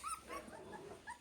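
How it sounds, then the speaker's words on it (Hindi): Bhotiya puppies bark, yip and whimper close by in a few short, high bursts, some louder than others, over a faint background. "अभी से भौंक रहे हैं।"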